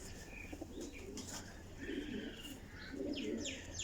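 Pigeons coo softly in a flock of racing birds, low rolling calls swelling in bursts while sharper chirps and brief wing or cage noises come through; faint and fairly close, with no speech.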